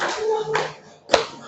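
Classroom clapping song with children: a few separate hand claps spaced apart, the last one sharp and loud, with singing voices around them.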